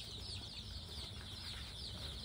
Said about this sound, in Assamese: লোকেল মুৰ্গী নিখ আছে